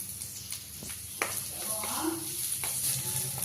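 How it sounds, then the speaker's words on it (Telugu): Curry leaves and ginger pieces frying in a pan give a soft, steady sizzle with occasional stirring clicks, low in level throughout. "కరివేపాకు ఇవన్నీ వేసి వేయించాలి"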